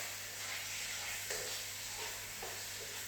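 Chicken korma cooks in a pan with a steady, soft sizzle and hiss, with faint stirring scrapes now and then and no talk.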